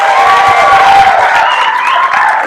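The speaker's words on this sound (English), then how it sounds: "can we give a round of applause for all the organizers and disorganizers?" Audience applause for event organizers at a talk, a steady dense wash of clapping and crowd noise filling the whole moment, with some cheering mixed in.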